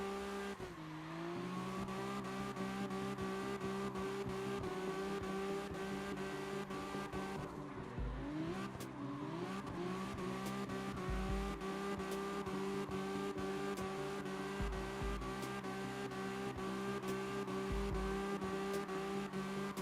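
Drifting cars in CarX Drift Racing Online: a steady, droning engine roar with shifting revs and bursts of tire squeal, loud and continuous throughout with no talking.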